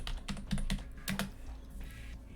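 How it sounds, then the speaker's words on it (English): Fingers type on a computer keyboard in a burst of quick, close keystrokes that clatter unevenly, then thin out into lighter taps. "That way I'm not typing verbatim from Wikipedia."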